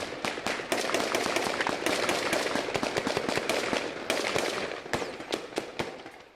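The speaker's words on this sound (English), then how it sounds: "Gunfire was exchanged and both men were killed." Rapid bursts of gunfire crackle in dense, uneven volleys during a special forces assault in the Paris attacks, loud and sustained with brief pauses between flurries of shots.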